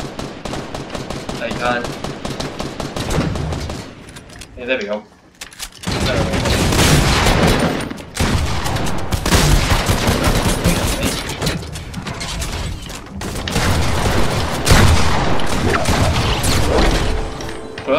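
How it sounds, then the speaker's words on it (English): Rapid automatic gunfire and scattered shots in a Fortnite Battle Royale match, loud and nearly continuous with bursts and crashes, briefly dropping out before resuming; a player talks quietly under the shooting. "when you just hear gunshots all the time"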